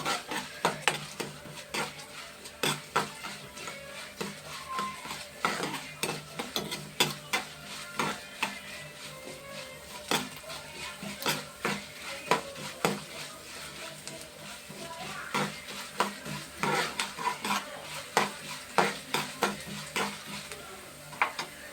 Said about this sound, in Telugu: వేగుతున్నాయి కదండి పచ్చిమిరపకాయలు.